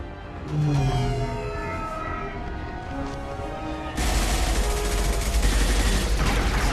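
Gunfire erupts in the Mass Effect 2 video game, a loud sustained burst of shots and impacts breaking in after a quieter stretch of ambient tones.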